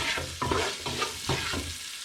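A spatula scrapes and stirs fried rice with garlic sausage in a hot sizzling pan, giving several rhythmic scraping strokes over a steady fry.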